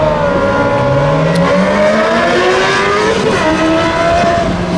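Motorcycle engines revving at a street festival, a loud continuous roar with rising and falling pitch sweeps from several machines overlapping close by, steady throughout with no talk.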